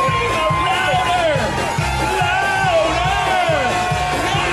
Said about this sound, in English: Let's hear some screaming out there.